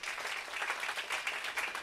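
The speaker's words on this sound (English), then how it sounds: "Give Susana Medina and the committee a big round of applause." Crowd applause for Susana Medina and her committee at an outdoor Cinco de Mayo park celebration, dense continuous clapping from many people, steady and fairly loud with no talk.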